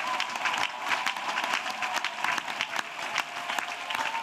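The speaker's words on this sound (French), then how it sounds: "Clap offering to Jesus Christ" Congregation at a prayer and intercession gathering claps as an offering, a loud continuous wash of many hands with scattered sharper claps and faint voices mixed in.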